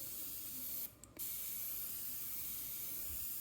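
An aerosol can sprays tint onto a motorcycle visor as a steady, close hiss that runs almost the whole time, broken by one short pause near the start.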